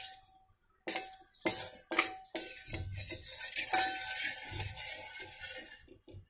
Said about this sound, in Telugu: వాటర్లో ఇలా కలిపి ఉండలు లేకుండా ఇలాగా బాగా కలుపుకోవాలి